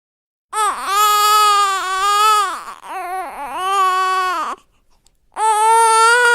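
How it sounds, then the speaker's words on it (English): A baby wails loudly in two long, rising-and-falling cries, pauses briefly, then starts crying again close by. "That sounds like a baby crying."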